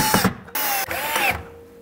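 A power drill drives screws into a scrap board base for a bow-making tiller setup, giving short loud whirring bursts with brief pauses between them.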